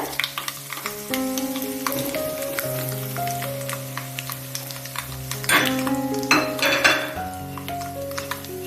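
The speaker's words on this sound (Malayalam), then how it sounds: "കറിവേപ്പില, ഒന്ന് വഴറ്റി കൊടുക്കുക." Dried red chillies and a sprig of curry leaves sizzle and spit in hot oil for a dates pickle, a steady close crackle with sharper bursts as leaves hit the pan, with occasional stirring and light clinks of a spoon.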